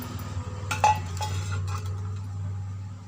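Chopped green chillies and beans rinsed in a metal kitchen vessel, giving soft clinks and knocks of utensil against pot with a couple of sharper clatters over a steady low hum, close by.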